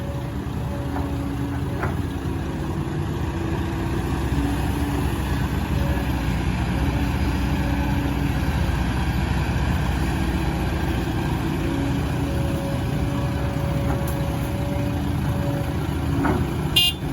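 Excavator engine running steadily while the bucket digs heavy, wet soil, a continuous loud mechanical drone with a couple of faint metallic clanks, heard alone with no talking.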